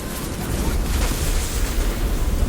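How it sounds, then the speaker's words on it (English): Roaring, sustained flamethrower fire from a ship in Assassin's Creed Odyssey naval combat, a dense loud rush with deep low rumble filling the whole moment. "I want to test my new improved flamethrower."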